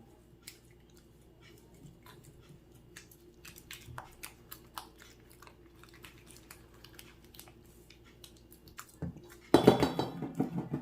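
Homemade dog biscuit ingredients are mixed in a bowl, with quiet clinks and taps of a utensil against the bowl and soft squishing, followed near the end by a louder burst of scraping and stirring.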